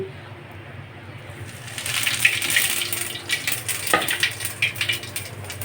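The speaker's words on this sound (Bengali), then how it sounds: "এখন আমি তেলের ভিতরে একটু জিরে ফোড়ন দিচ্ছি" Cumin seeds hit hot oil in a wok, and a crackling, hissing sizzle swells up after a quieter start, staying fairly loud and close with faint clinks and occasional pops.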